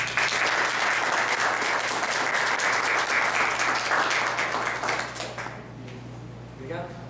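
Audience applause fills an auditorium at the close of an introductory course on the bamboo production chain, a dense sustained clapping that carries steadily before thinning and fading toward the end.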